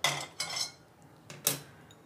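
Roasted black peppercorns are poured into a pan while preparing thalipeeth bhajani flour, giving four short, crisp rattling bursts separated by brief pauses, with no speech.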